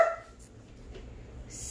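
Several dogs barking and yipping at a farm, faint and somewhat distant, with short scattered calls over a low background rumble.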